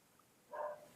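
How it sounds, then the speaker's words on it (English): A single faint, short dog bark somewhere in the background behind a quiet room, heard alone with no talk. "Is that a dog?"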